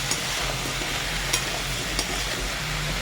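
Pumpkin curry with salt and grated ginger stirred in a pan, a steady low sizzle with a few light scraping knocks of the spoon, close and without talking.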